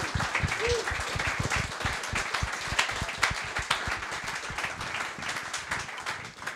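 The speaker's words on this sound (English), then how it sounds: "So a nice round of applause for Chloe." An audience at a QPR fans' forum breaks into warm, dense applause that carries on steadily, with a few cheers mixed in.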